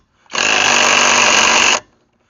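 A VTEK V6309R impact wrench runs in one sustained, loud burst of about a second and a half, a steady high-pitched whirring hammer with abrupt start and stop and no talk.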